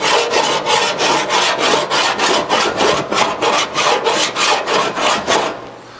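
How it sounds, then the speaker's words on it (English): Metal file scratching over a Porsche 550 metal panel marked with magic marker, about a dozen loud, regular rasping strokes close by, tapering off at the end. "What it's doing is scratching the magic marker off to find your highs and lows."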